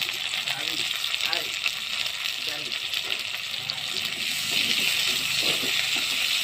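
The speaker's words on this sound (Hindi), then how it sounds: "इसमें हम पहले टोमेटो डाल देते हैं" Tomatoes going into a pan of browned chili chicken: a steady, close sizzle of frying with brief stirring clatter, while someone speaks over it.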